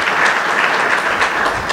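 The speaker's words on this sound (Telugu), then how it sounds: "ఒకసారి క్లాప్స్ కొట్టండి దేవుని కోసం" An audience at a Bible sermon claps steadily for God, a dense, even wash of many hands that lasts the whole stretch without a break.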